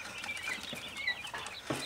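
Chickens of several breeds cluck and chirp softly at a distance, with faint scattered calls and light rustling in a quiet yard.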